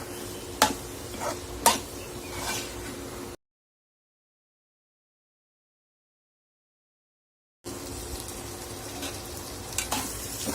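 A radish-pod vegetable curry is stir-fried in a pan, with a close-up sizzle and several sharp knocks of a spatula against the metal in the first few seconds. The sound then cuts to silence and resumes near the end.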